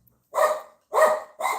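A pet dog barks three times in a row, loud and close, with short pauses between the barks. No voices are heard.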